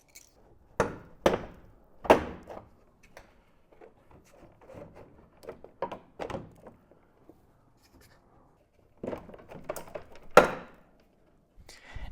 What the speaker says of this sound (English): we should be able to just pull out the bottom trim here towards us